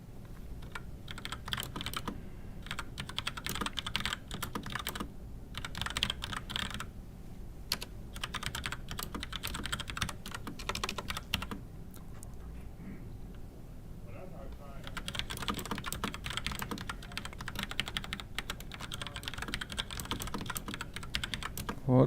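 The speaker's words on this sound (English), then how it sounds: "It's Cherry Mix Board 3 with the red cherry clickers." Typing on a Cherry mechanical keyboard with red switches, a fast run of close key clatter that carries on throughout, pausing briefly now and then, with faint talk in the background.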